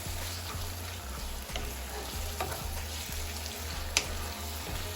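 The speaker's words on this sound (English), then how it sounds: "you're just gonna break it up, making sure it is well combined with our seasoning" Seasoned ground beef fries in a pan on medium heat with a steady close sizzle, punctuated by regular scraping and tapping as it is broken up and stirred, with no talking.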